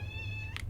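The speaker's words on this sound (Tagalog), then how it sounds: "Ba't ba may naiyak akong pusa?" A cat's brief, faint meow rises over steady background hum during a round of Valorant on the Ascent map, with no talk.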